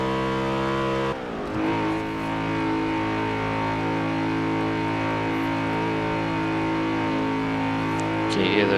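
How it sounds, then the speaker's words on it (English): A 2002 BMW M3-GTR race car with a V8 and straight-cut gearbox in Forza Horizon 4 drones loudly, with a brief dip as it shifts early on, then a sustained, even engine tone with a layered whine. "Can you hear those straight cut gears in the gearbox?"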